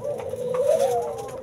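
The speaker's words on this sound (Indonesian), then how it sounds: "Ini burung perkutut, ini perkutut lokal alam Blora ya" Local zebra doves (perkutut) from Blora in a bird enclosure, a soft tonal cooing call rising and wavering over about a second, close and clear, with no talk.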